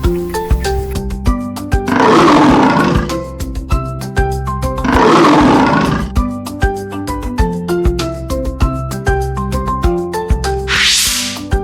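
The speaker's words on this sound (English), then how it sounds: "Roar." A lion roars twice in loud, rasping bursts over a steady backdrop of bright, plinking children's music, with a short airy whoosh near the end.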